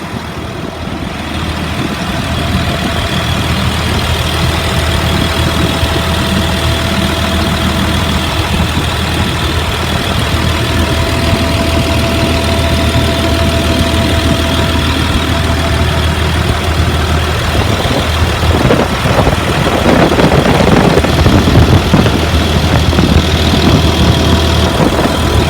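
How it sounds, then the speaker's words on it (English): A 2004 Blue Bird 72-passenger school bus engine idles steadily with a loud, constant low rumble and a faint whine, rising slightly near the end, with no voices over it. "It idles smooth, revs up nice."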